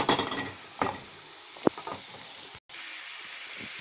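Onion fries in margarine in a pan for farofa, giving a steady close sizzle broken by a few scraping stirs and one brief clack, with no talk.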